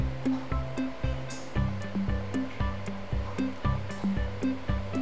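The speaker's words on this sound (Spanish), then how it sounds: "Pasamos overlock en todo el orillo del vuelo." An overlock serger runs steadily along the edge of a fabric ruffle for a girl's outfit, its fast rhythmic mechanical chatter pulsing evenly and close up with no talking.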